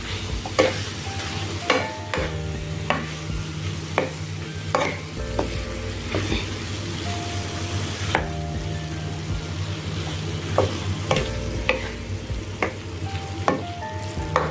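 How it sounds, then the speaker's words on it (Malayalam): Paneer and vegetables being stirred in a frying pan for a stir fry: a continuous sizzle with repeated scraping and clacking of the spatula against the pan, close and steady, without speech. "പനീറും കൂടെ ഇതിലേക്ക് ആഡ് ചെയ്യാം. ഓക്കെ, നന്നായി മിക്സ് ചെയ്ത് കൊടുക്കുക."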